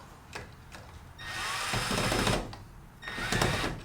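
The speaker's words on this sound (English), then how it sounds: "I'm just gonna go ahead and tighten that really long bolt." A power tool whirs while tightening a long bolt during installation of Hyperlite LED shop lights in a home shop, giving two sustained buzzing bursts with short pauses, fairly close but moderately quiet.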